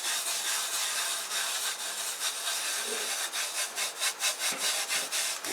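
A heat pad is rubbed firmly by hand, giving a faint, dry scraping and rubbing sound in uneven strokes, growing a little more rhythmic toward the end.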